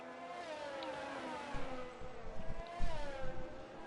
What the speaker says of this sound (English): As we hear all those cars zooming past